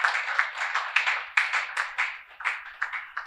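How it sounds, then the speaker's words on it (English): An audience claps at a criminal law review conference session, producing a brief, fairly close burst of applause that swells and fades in uneven waves, with no voices over it. "Let's give my Lord a round of applause"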